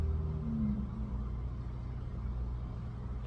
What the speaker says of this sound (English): Sorry if you can hear the traffic.